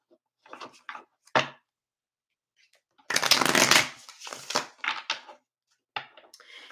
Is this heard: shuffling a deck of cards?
yes